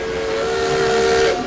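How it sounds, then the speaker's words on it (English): Steam train whistle blowing a loud, sustained, steady chord-like tone with breathy hiss, close and clear for over a second before cutting off, with no speech. "I love that train whistle."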